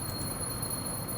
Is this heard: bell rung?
yes